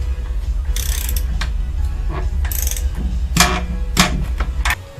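A ratchet wrench tightens engine bolts in a torque sequence on a Subaru Outback during engine reassembly, giving several short bursts of rapid clicking separated by pauses over a low background hum.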